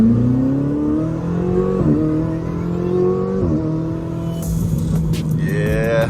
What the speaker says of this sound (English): That is the highlight of driving the Ferrari 488 GTB, is that awesome acceleration, that sound.